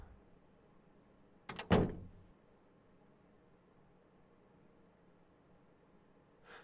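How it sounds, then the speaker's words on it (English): Door closing in the visual novel game Steins;Gate 0, a single sharp thunk with a brief rattling tail against quiet background hiss, followed by silence and a faint rustle at the end. "The door closed and I could hear her footsteps trail off into the distance."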